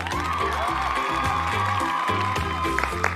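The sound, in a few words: applause welcoming a guest professor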